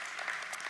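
A congregation applauds in a church, a brief, soft patter of clapping hands at a moderate distance.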